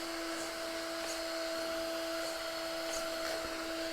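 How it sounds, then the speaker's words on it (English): A loud fan runs steadily while a Tamiya TT02 drift RC car with a Nissan 350Z body sits switched on, giving a constant whirring drone with a high pitched tone and faint ticks. "Got a loud fan on."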